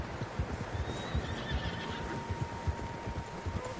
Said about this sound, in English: Horses, quite a few of them.